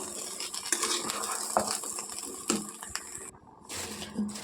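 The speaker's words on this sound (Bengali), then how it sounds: "এবার আমি জল দিয়ে দেবো" Water poured into a pan of frying rice, cauliflower, peas and potato for pulao, giving a moderate splashing, bubbling wash with faint clinks of a utensil against the pan, no voices.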